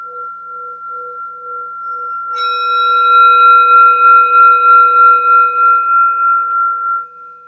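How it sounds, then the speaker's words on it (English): A singing bowl is struck once during a yoga session, giving a bright ring with a steady hum that sustains and slowly fades over several seconds, heard on its own after a soft repeating tone. "At the third sound of the bowl"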